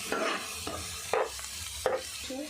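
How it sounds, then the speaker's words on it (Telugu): Mint paste and ginger garlic paste fry in oil while a spoon stirs the pan, three or four distinct scraping strokes rising over a soft, continuous sizzle. "నూనెలో మంచిగా పచ్చివాసన పోయేంత వరకు ఫ్రై చేసుకోవాలి"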